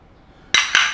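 Two quick bright clinks of small ceramic dishes touching, close and crisp after near silence.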